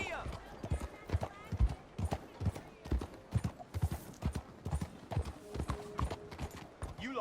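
Horse hooves clip-clopping at a steady trot in Red Dead Redemption 2, a clear rhythmic beat of close impacts with an occasional whinny, while voices talk over the ride.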